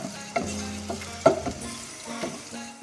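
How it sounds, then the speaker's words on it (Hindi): Onions frying until light brown in a pan for a dhaba-style chana dal fry, a soft low sizzle with a few scraping stirs of a spoon, close and fairly quiet, no talking. "मीनवाइल हम यहाँ पर प्याज को लाइट ब्राउन करेंगे।"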